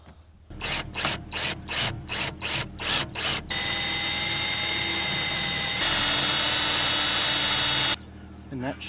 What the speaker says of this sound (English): This drill bit's made for stainless steel.